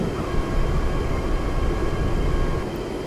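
A JF-17 Thunder jet engine in DCS World throttles down, a steady broad roar with deep rumble and faint high whine holding at a constant level for about three seconds, no voices over it.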